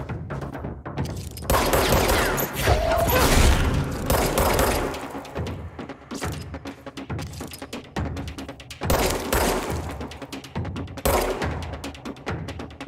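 Gunfire aimed at the player in the video game Control, with dense bursts of shots and impacts coming in loud waves and brief lulls between them.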